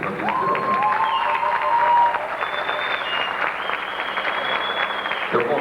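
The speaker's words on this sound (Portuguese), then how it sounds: "pode aplaudir para mim" Audience at a 1994 economics bachelor's graduation ceremony at FAAP applauds steadily and loudly throughout, a dense sustained clapping with some cheering mixed in.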